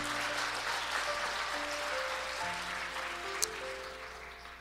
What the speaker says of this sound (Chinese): 拍手把荣耀归给神